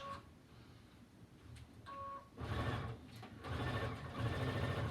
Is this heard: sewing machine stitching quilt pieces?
yes